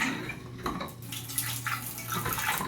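A bathroom shower runs with a steady, fairly loud rush of water, a broad hiss holding for the whole stretch over a low hum, with no voices.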